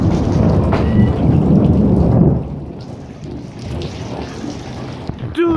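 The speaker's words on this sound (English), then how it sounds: "and then thunder, it went boom boom" Loud thunder rumbles through a heavy rainstorm, a deep roll for the first two seconds over steady rain on surfaces, then rain continues more quietly with a short rumble near the end.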